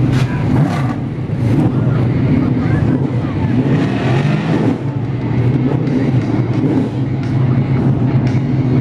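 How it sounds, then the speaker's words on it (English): Big block modified race cars during a heat race at Brewerton Speedway, a continuous loud engine roar with rising and falling revs, crowd and announcer-like noise blending in underneath. "Heat race number 2 for the Tracy Rutherford Big Block Modifieds on the racing surface"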